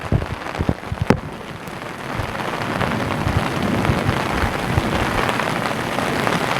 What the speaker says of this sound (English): it is just raining and raining